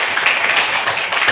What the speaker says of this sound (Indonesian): Anai, kita beri tepuk tangan dulu.